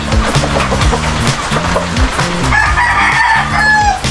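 Farm chickens being bred, crowing and clucking in repeated loud calls that layer over one another, with a rooster's crow standing out near the end and no talk.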